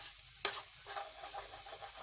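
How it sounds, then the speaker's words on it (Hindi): Minced meat (keema) stirred and fried in a pan: a steady sizzle with a sharp spoon clack against the pan near the start, then continued scraping and frying, close and alone with no talk. "ये देखिए हमारा कीमा गल गया है"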